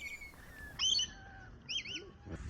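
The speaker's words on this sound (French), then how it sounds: "On y retrouve des oiseaux" Birds chirp and whistle in a garden in Guadeloupe, with several distinct bright calls and warbling phrases over a quiet outdoor background.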